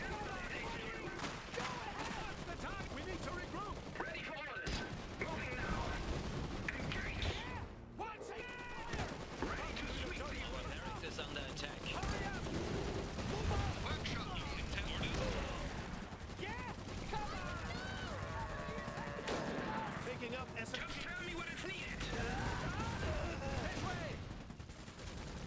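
Field gun shelling and gunfire in the strategy video game Iron Harvest, a dense, continuous barrage of shots and blasts with battle noise throughout, mixed under a voice.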